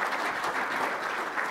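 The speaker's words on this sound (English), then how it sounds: "Give them a round of applause," A dense burst of audience applause thanks the panelists at a dairy business management panel, steady and fairly close.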